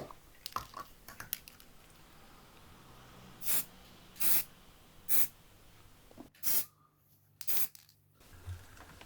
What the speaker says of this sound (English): the last 3 on all of them is going to get a coat with a rattle can